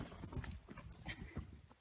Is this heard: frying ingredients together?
no